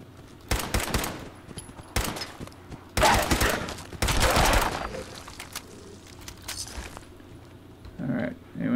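Gunfire in the video game Fallout 4, several bursts of rapid shots separated by short pauses, loud and close, with a faint voice near the end.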